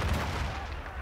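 Grenade blasts and gunfire in the World War II shooter Sniper Elite 5, a dense, continuous rumble of explosions and shots filling the whole brief moment at close range.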